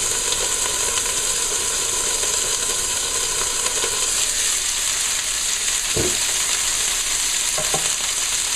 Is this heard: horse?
no